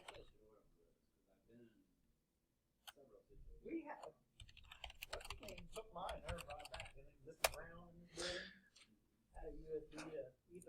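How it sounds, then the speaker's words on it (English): Soft, irregular clicks of someone typing a school password on a computer keyboard, close and quiet, broken by a pause and with faint speech mixed in. "you type in your school password"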